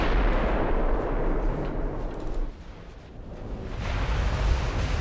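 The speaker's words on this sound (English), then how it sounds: "Here's the battle cruiser. What have you got? Oh boy, that's a lot of firepower. Another 12 15-inch guns." Heavy broadside of a battlecruiser's twelve 15-inch naval guns in Ultimate Admiral Dreadnoughts, a dense roaring barrage of booming blasts rolling continuously, dipping briefly midway before surging back loud.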